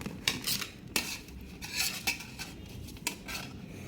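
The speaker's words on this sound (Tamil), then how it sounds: "முதல்ல இந்த 3 ப்ரெட்டுடைய ஓரங்களை எடுத்துடுறேன் நான்." Light scraping and clinking of a utensil against a plate or board, irregular and close, as the crusts are pulled off three bread slices in a home kitchen.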